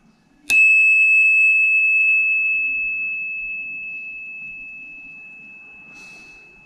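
A single loud ring of an electronic bicycle bell on a mountain bike cruiser sounds near the start and slowly fades away over several seconds, with faint rustling beneath it.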